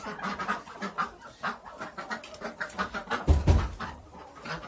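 A flock of ducks quacking and chattering close by, a steady jumble of overlapping calls with one louder burst near the end.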